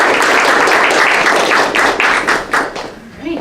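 An audience in a lecture hall claps to welcome a guest speaker, author Holly Painter, with dense applause and distinct sharper claps that taper off toward the end.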